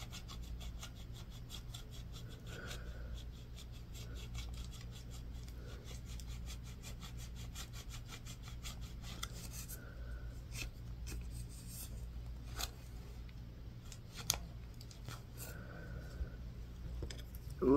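A bar of soap is scratched and carved up close in ASMR style, with steady soft rasping and filing strokes and a few sharper scrapes and clicks, quiet and continuous with no talking.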